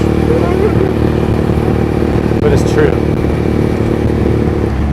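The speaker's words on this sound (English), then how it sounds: "It's awesome to have that sweet exhaust sound" A loud motorcycle exhaust rumbles steadily up close while riding through Shinjuku, Tokyo, with someone speaking briefly over the constant engine drone.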